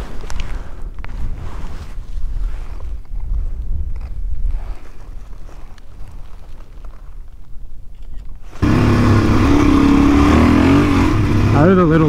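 Small DRZ dual-sport motorcycle ridden through desert sand: wind and muffled engine rumble at first, then the engine jumps louder and closer with a rising, revving drone; a voice talks over it.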